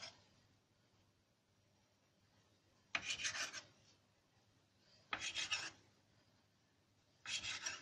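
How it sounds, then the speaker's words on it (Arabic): A knife cuts through food in three separate rasping strokes spaced a couple of seconds apart, close and fairly faint against a quiet background. "امسك سكينة كده بقى وايه ابتدي اقطع"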